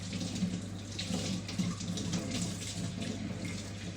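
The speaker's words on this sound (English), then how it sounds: "let me wash the leaves first" Lettuce leaves are rinsed under a running kitchen tap, a steady close splashing hiss of water with faint irregular patters as the leaves move through the stream, with no talking.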